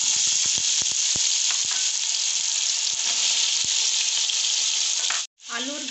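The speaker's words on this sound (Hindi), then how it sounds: "एक पतीली में 3 से 4 टेबल स्पून ऑयल लेंगे और अपनी सब्जियों को स्टिर फ्राई करेंगे।" Potatoes and carrots stir-frying in a few spoonfuls of hot oil in a pot, a loud steady sizzle with scattered clicks of stirring, cutting out briefly near the end before resuming.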